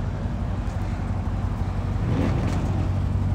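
A supercharged Dodge Hellcat engine rumbles on an Atlanta street, a steady low idle-like drone with a slight swell toward the end, fairly distant and without talk.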